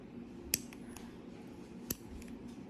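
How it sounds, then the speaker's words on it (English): Small scissors snip a few times trimming the edges of a nail, two sharper clicks standing out over a quiet room hum, with soft handling noises between cuts. "I'm just cutting those little pieces on the edge."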